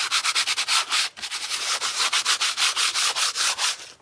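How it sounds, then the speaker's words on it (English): Venetian plaster on burlap being lightly sanded by hand: a close, steady back-and-forth rasping with about a dozen even strokes, one short pause, and no voices. "So I'm going to lightly sand this."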